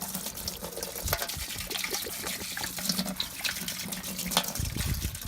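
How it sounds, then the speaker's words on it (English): Vinegar pours and gushes into a container holding rusty traps, a continuous splashing liquid stream with a few knocks and clunks near the end. "and then just put the vinegar in there."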